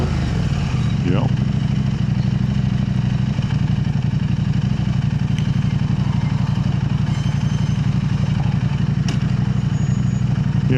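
A KTM 890 Adventure R motorcycle fitted with an Arrow exhaust system runs steadily close by, with a constant low engine drone and faint clatter throughout and no clear revving.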